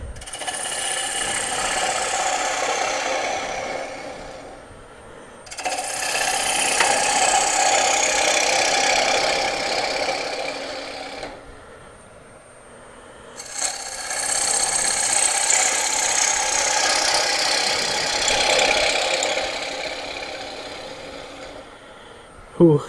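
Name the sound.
hollowing out a wooden piece with a tool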